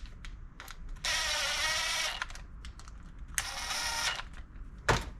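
A power driver whirs in short bursts as screws go into the plastic housing of a Toro 21311 push mower, two longer runs and a quick final zip, close by with faint handling clicks between.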